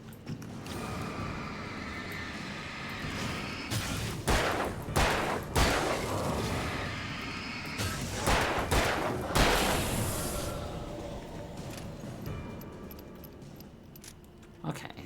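Gunfire in the horror game Alan Wake 2, a string of sharp shots standing out over a dense, constant bed of game ambience and music, with a cluster of bursts in the middle and scattered blasts later.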